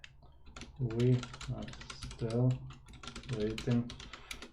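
Computer keyboard typing out a chat message in a support chat window, rapid irregular key clicks running under steady nearby talk throughout.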